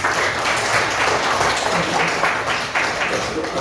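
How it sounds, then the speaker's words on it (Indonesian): A classroom full of people claps together, a dense continuous burst of applause at moderate loudness. "Tepuk tangan dulu untuk Henry."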